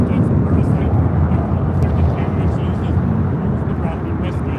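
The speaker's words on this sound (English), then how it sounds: "taking off to San Francisco on this A320 with JetBlue Airways Flight" A JetBlue Airways Airbus A320 takes off, a loud, steady broadband jet roar that dominates throughout, with a voice faintly present underneath.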